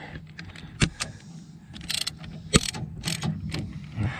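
Ratchet wrench with a couple of extensions and a 19mm socket tightening a suspension bolt on a Dodge Ram 2500/3500 during a 3-inch lift install, sharp metallic clicks and clanks in irregular bursts, close and fairly quiet.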